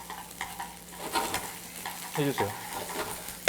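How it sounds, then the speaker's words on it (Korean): Doenjang soybean paste stir-fried in oil in a hot pan gives a steady sizzle with scraping stirring strokes, and a voice speaks briefly near the end. "된장을 기름에 살살살 볶는다고 생각하시고"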